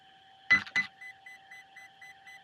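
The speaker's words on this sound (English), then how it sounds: "Eight beeps, that's 8S." Electronic beeping over a steady high whine from an RC car's Hobbywing EZRun Max5 speed controller: two louder tones, then six short, evenly spaced beeps, eight beeps in all, signalling an 8S battery.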